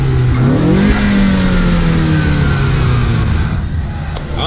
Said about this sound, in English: do you hear the turbo in this car?